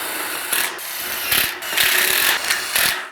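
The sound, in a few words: screwing a wall frame stud plate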